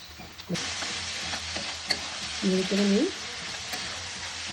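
Egg and paneer bhurji fries in a pan, a steady sizzle with scraping stir strokes and a brief hum of a voice partway through.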